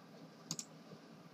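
Two quick, faint clicks of a computer mouse, close together in a quiet room.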